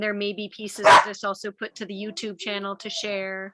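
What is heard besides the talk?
puppy barking in the background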